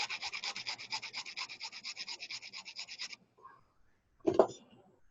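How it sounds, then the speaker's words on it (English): A jeweler's file rasps back and forth across the end of a Viking knit wire tube in about twenty quick, even strokes, close and clear, followed by a brief pause and a soft clunk. "you need your jeweler's file, and you want to file the end of this"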